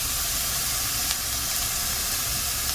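Onions sauté in a pan with a little salt for a kalmas Iftar dish, giving a steady, close broadband sizzle and hiss that holds evenly throughout with no talk.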